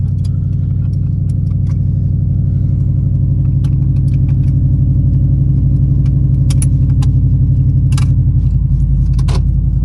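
A 900 whp C7 Corvette Z06 on its first drive, with a deep, loud, steady engine rumble throughout. Faint jingling sounds rise over it near the end.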